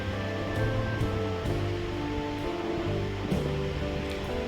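Potatoes frying in hot oil with salt and turmeric in a home kitchen, a steady dense sizzle and hiss that holds evenly throughout, with faint clinks from a utensil in the pan.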